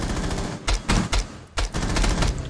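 Bursts of rapid automatic gunfire in a competitive shooter match, dense crackling volleys separated by brief pauses, loud and close, with no voices.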